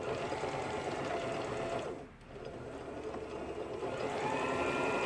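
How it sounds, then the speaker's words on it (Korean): An Elna 3210 sewing machine stitching after repair runs in a continuous loud mechanical whir with fast rhythmic needle chatter, briefly dipping midway before resuming at full speed. "반달무늬 바느질, 각종 기능들 정상적으로 박음질 되도록 수리를 완료했습니다."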